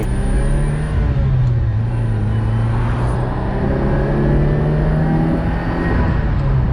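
A classic Ferrari 308 GTSi idles and runs steadily at close range, its engine note holding a low, continuous drone with a slight rise and fall in pitch throughout, and no voices over it.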